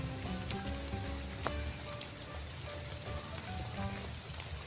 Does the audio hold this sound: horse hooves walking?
no